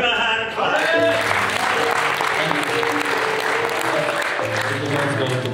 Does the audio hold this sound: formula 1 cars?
no